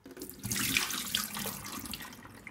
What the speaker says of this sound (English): The alfalfa has soaked overnight, so now I'm going to drain the water.